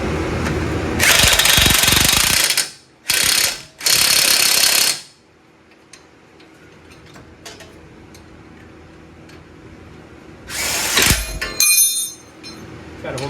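A ratchet tightens a 21 mm bolt on a 2011 Nissan Rogue CV axle, with loud bursts of rapid clicking in short runs separated by quieter gaps, close by.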